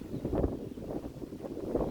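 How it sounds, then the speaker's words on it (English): Hard wind blows outdoors and buffets a microphone with a low, rumbling roar. The gusts swell and ease in waves, and nothing else is heard. "the wind is like picking up"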